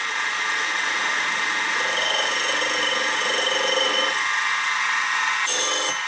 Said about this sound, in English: So what I'll do is I'll centre drill, and then I'll drill and then tap to 2BA.